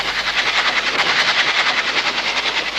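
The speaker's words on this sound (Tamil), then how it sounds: "ரயில் வர சத்தம் கேக்குது, ஆனா வண்டியை காணோம்" A train runs along railway tracks with a steady, fairly loud rumble and rhythmic wheel clatter that holds without pause and has no talking over it.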